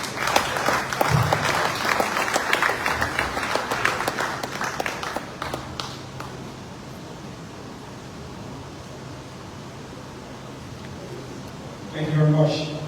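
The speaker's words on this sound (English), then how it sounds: "A round of applause for State" Applause at an award ceremony for President Julius Maada Bio, a burst of clapping that fills the first half and then fades, leaving quiet room tone before a voice speaks at the end.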